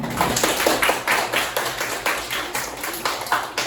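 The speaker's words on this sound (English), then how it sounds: "everyone, clap your hand for your friend" Classmates in a classroom clap their hands for a student about to present. The claps come in a quick, fairly regular rhythm and are close and clear, with no talking over them.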